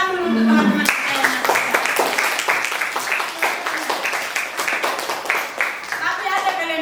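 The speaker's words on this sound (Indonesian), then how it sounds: "Tepuk tangan dulu untuk teman-teman kita" A school class claps for classmates, a dense patter of many small hands that starts abruptly and keeps going, with children's voices and chatter mixed underneath.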